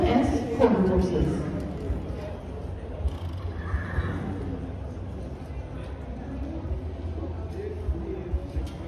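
A horse working cattle at a ranch cutting show in a green horse non-pro class, with whinnies, hoof clops and arena chatter, while an announcer talks over the scene.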